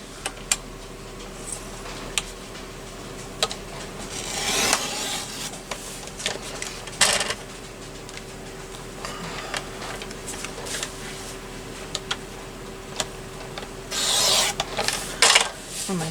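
Scrapbook paper being trimmed with October Afternoon products: steady soft rasping and scraping strokes with scattered small ticks, close and fairly quiet, a louder burst of cutting near the end, with no one talking.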